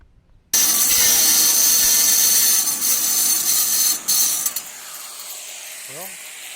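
Power cutting through a 275 gallon steel fuel oil tank, a loud continuous harsh grinding and rasping that runs steadily for about four seconds, falters, then stops, leaving quiet with a brief faint squeak.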